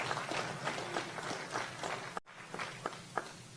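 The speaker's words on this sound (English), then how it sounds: "Let's have a round of applause for Mr." Crowd at a Delaware civic rally applauds a state representative, a dense steady wash of clapping at moderate distance that dips briefly near the end and continues with a few sharper individual claps.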